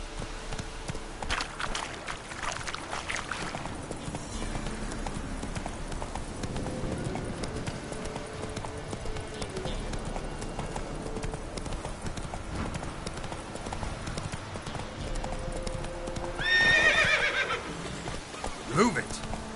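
Roach, a horse in the video game The Witcher 3, clops along with rhythmic hoofbeats over game ambience, with a loud whinny breaking out near the end while voices speak.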